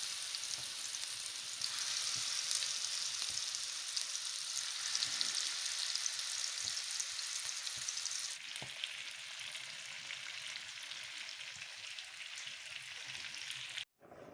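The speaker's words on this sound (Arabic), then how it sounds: "بهالشكل هذا كملوا التشكيل كرات اللحم، وهسه راح اقليها" Minced meat balls fry in hot oil with a steady, dense sizzle that holds loud and close for most of the stretch, easing slightly partway through before cutting off abruptly near the end.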